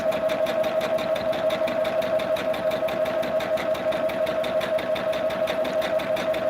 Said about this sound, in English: Sew down that line, you guys.